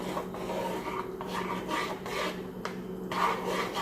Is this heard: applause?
no